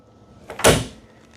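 A glass-fronted kitchen cabinet door with a soft-closing hinge in an Alliance Benchmark 42LFT Destination Series RV eases shut once, a near, brief swish and muffled thud with no talking.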